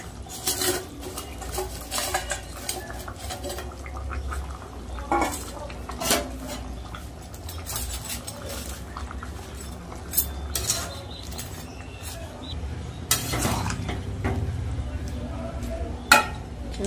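Tengra fish go into a boiling curry with potatoes and spring onion, bringing clinks and scrapes of a utensil against the pot over a low, steady bubbling rumble, with occasional louder knocks.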